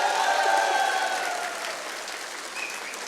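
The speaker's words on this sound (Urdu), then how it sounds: "یہ آپ نے تالیاں تو بجائیں" Applause from the audience at a media ethics session of the Islamabad Literature Festival 2024: a full round of clapping, with a few voices whooping over it, that starts strong and gradually thins out and fades.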